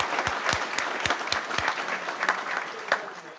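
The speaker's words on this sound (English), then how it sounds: "Let's give them a round of applause." Audience at a regular board meeting breaking into a round of applause; dense clapping fills the room with several sharp, louder nearby claps standing out, and faint voices mix in underneath.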